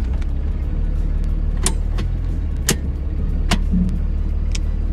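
A big-turbo Cummins 5.9 diesel truck drives with a steady loud engine drone inside the cab, broken by several sharp clicks and knocks as the driver works through the gears.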